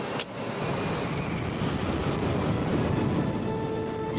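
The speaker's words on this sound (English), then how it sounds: "Speedbird Concorde, clear takeoff, runway 221" A Concorde jet airliner roars steadily through its takeoff run, a broad, loud, continuous rumble with no pauses, heard from a distance with wind buffeting the microphone.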